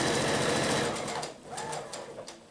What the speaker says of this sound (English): I'm going to go ahead and sew off the end and then turn it around